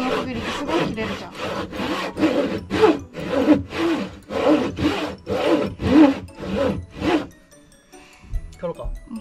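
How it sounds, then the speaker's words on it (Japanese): A carpenter's hand saw cuts through old structural timber being replaced in a traditional Japanese house, about a dozen rhythmic rasping strokes close by, then stopping with a few clunks; people talk around it. "大工さんのノコギリってすごい切れるじゃん。"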